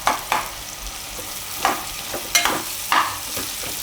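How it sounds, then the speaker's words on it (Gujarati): Red chili powder (mild reshampatti) being stirred into hot frying oil for a Gujarati pumpkin shaak: a handful of short, close scraping strokes of a spoon against the pan, with faint sizzling between them and no talking. "તો આ રીતે થોડુંક મિક્સ કરી દેવાનું તેલમાં મરચું"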